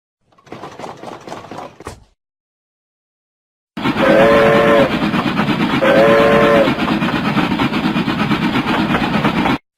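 A train sounds in a kids' educational video game: after a short spoken word, a loud, steady rumble of rolling cars starts, with two brief horn blasts early on, continuing to the end.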